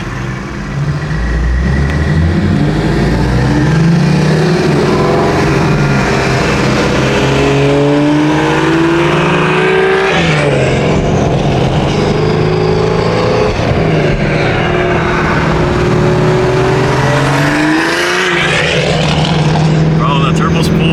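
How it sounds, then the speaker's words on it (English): Toyota Supra with a catless downpipe revving hard, its turbo spooling up in rising and falling sweeps; the engine is loud and close throughout, with voices talking over it. "the turbo spool is so crazy now"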